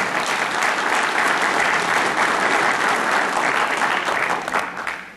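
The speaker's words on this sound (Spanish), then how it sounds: "el doctor Mario Nicolás Cadavid Botero, a quien lo recibimos con fuertes aplausos" At an international criminal law congress, the audience greets a speaker with loud, sustained applause, a thick continuous roar of clapping that holds steady for several seconds before tapering off abruptly.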